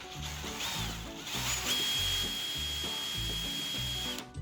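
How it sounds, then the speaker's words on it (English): A drill fitted with a 1/8 inch Forstner bit bores into thin wood for a trout lure. Close, loud rhythmic ratcheting chatter is heard over a continuous motor whine. "So I'm gonna go ahead and drill out a couple of holes. I'm using a 1/8 inch Forstner bit."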